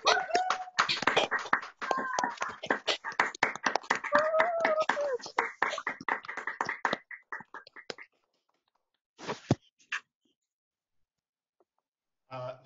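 Applause from an online graduation audience on unmuted microphones, scattered hands clapping close and uneven with a few voices mixed in, dying away after about seven seconds into near silence with a couple of brief late claps.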